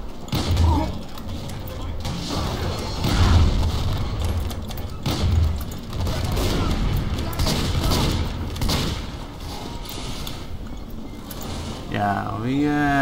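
Loose Cannon fire in Team Fortress 2: a few heavy booming shots with thudding impacts land amid chaotic gunfire and explosions, while players talk loudly over voice chat.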